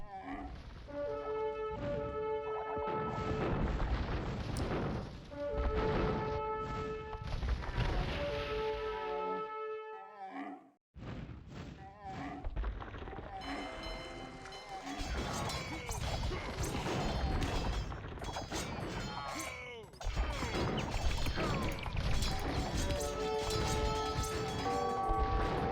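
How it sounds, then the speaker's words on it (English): Bombard cannons firing during a medieval real-time strategy game battle, with heavy booming crashes layered into dense battle noise and music, continuous and loud with a brief dropout midway. "Bombard cannons doing some work."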